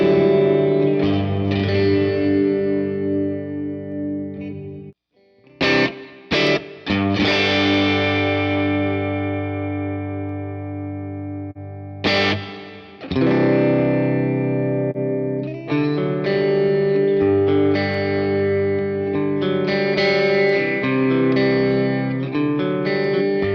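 A guitar run through the Universal Audio Ox 'Night Terrors' reverb preset rings with long, washy, eerie reverb tails. Sustained chords and notes blur together, with a couple of sharp plucked attacks midway, loud and up front, with no voices.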